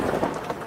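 Steady heavy rain with a low thunder rumble during a winter storm in Southern Oregon, a dense wash of drops close by and no voices.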